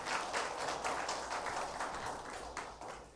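Church congregation applauding together, a dense steady patter of clapping that fills the room and holds evenly throughout before easing slightly at the end.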